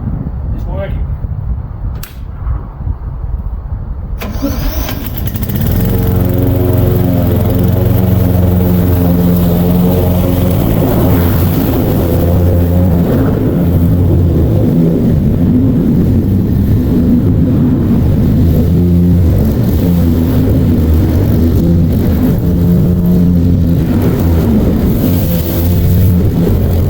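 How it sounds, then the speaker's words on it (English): A lawn mower starts after a few quiet seconds of handling noises, then runs loud and steady with a rough, chugging drone while mowing wet grass set to the lowest cutting height. "Even though it's wet grass, I'm going to mow it on the lowest level"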